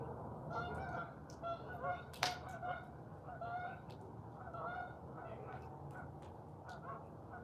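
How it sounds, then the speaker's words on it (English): Geese honk repeatedly at a distance, overlapping calls from a passing flock over steady outdoor background noise. "Oh, damn, we got some geese."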